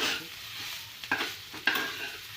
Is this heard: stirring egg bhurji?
yes